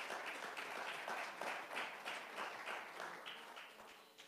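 A church congregation applauds at a quiet, distant level, with a rhythmic pulse to the clapping that continues steadily throughout.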